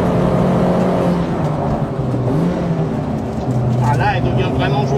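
A Peugeot 206 RC fitted with upgraded camshafts is driven hard in second gear at full throttle, its engine note climbing steadily and loudly, with a voice talking over it from inside the car.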